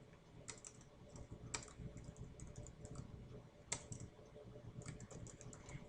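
Typing on a computer keyboard to enter a document title, with bursts of crisp key clicks in uneven rhythm and short pauses between words, close and fairly quiet.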